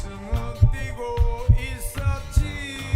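Cartoon heartbeat sound effect thumping in a steady lub-dub rhythm, loud and close, over light background music in a cat animation.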